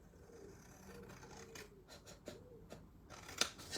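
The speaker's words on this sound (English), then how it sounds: "I'm just going to change to a bigger pair of scissors." A larger pair of scissors cuts through material for a small ink storage craft, giving several crisp snips and scrapes at close range that are fairly quiet, with a sharper click near the end.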